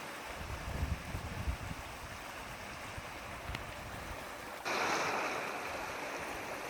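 River water flows in a faint, steady rush, a soft continuous wash of sound that steps up slightly louder partway through and carries on evenly.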